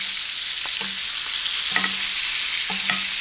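A large ribeye steak sears in a pan it barely fits, with a steady hiss of fat throughout and a few soft clinks and scrapes as it is turned over.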